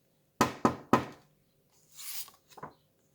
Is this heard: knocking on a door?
yes